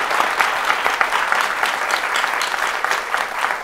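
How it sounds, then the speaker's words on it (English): An audience applauds steadily throughout, a dense, even patter of many hands clapping in a conversation event hall, close and fairly loud. "Could you have a round of applause for both of you?"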